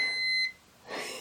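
A timer being started gives a short, clear electronic beep on its own, then fades into a softer rustle, with no talking.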